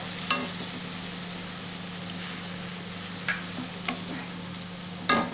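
Food sautés in a pan with a steady low sizzle, broken by a few sharp scrapes and taps of a utensil against the pan.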